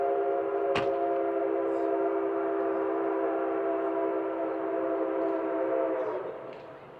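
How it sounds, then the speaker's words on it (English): The Nickel Plate Road 765 steam locomotive sounds a long, loud, steady whistle that holds for several seconds before fading, with a sharp crack near the start and no talking over it. "the old-school engineer executed the entry perfectly with the wailing of the whistle and the accompanying stack talk echoing off the buildings"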